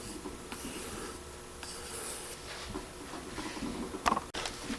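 Knife blade stropped on newspaper loaded with black compound or rouge, a soft dry rubbing and scraping in repeated strokes, quiet and close.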